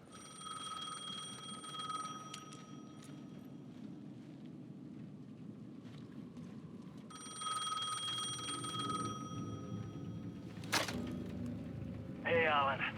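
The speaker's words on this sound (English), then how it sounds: "The payphone at the edge of the plaza was ringing again." A payphone rings in Alan Wake 2 at the edge of a plaza. Bright, repeated electronic ring bursts come in two long spells over a dark rumbling ambience, with a sharp burst and a warbling tone near the end, and no talk.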